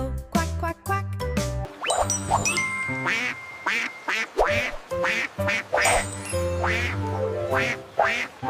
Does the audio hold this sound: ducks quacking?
yes